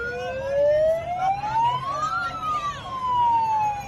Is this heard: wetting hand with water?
no